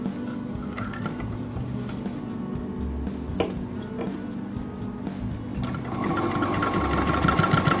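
A sewing machine stitches a Semi Patiala salwar, running in a steady mechanical whir with brief clicks and handling noises, then grows louder and busier toward the end; no one speaks.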